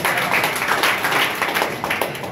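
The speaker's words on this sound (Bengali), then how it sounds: "জোরে একটা হাততালি।" An audience at a health talk claps loudly and continuously for a couple of seconds, a dense patter of many hands together.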